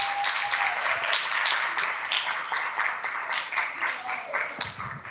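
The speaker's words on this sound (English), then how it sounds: "can you please give a big round of applause for Stacey?" Audience at a Newkind conference applauds steadily as Stacey is welcomed, a dense, sustained wash of many hands clapping throughout, with some voices mixed in.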